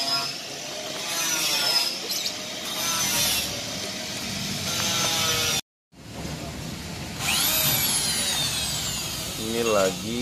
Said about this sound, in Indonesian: Ini lagi pengeboran untuk masukin pipa